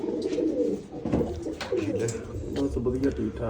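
Pigeons kept in a village loft coo in a soft, continuous low murmur at close range, with a person talking over them throughout.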